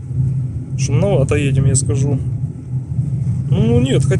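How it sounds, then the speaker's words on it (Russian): Studded Antares 175/R14 winter tires drone steadily and low on a snowy highway in a blizzard at about 55-60 km/h. Someone talks over the constant road hum inside the car. "вот с эти шипы, они звук издают, я заметил, 55-60 км в час"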